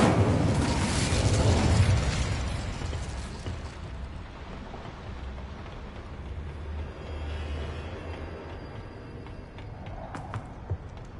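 In Hogwarts Legacy an Incendio fire spell erupts in a loud whooshing burst of flame, then settles into a rumbling crackle that fades, with a few small pops near the end.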